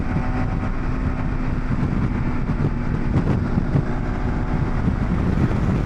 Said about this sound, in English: it's super windy in this banding pass here. Getting blown around.